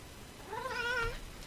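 A cat gives a single drawn-out meow with a rising then falling pitch, close by and clear, with no talk over it.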